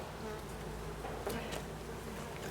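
A steady, dense drone of many honeybees buzzing at a Layens hive fills the scene up close, with the occasional louder bee passing near.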